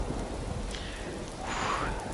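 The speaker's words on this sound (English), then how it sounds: "It was raining outside." Rain and thunder outside in a horror video game: a steady dense hiss of rain with a swelling rumble of thunder building near the end.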